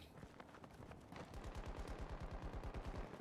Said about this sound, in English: Like them shooting right now